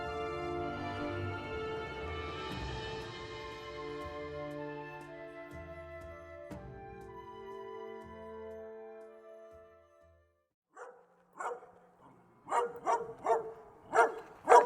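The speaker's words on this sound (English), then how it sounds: "two dogs came and disturbed them" Two dogs bark in short, sharp bursts near a wetland where glossy ibises feed, the barks coming in a quick cluster after a stretch of quieter background sound.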